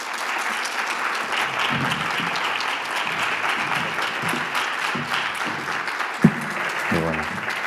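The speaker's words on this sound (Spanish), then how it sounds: "le pedimos un aplauso a Rafael Santandreu" Audience applause for speaker Rafael Santandreu at a talk on cognitive psychology, a steady dense wash of clapping throughout, with faint voices and a brief knock near the end.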